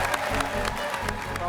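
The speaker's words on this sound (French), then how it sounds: "On applaudit Nina Compton." A TV cooking-show audience claps steadily, a dense patter of applause with a murmur of voices mixed in.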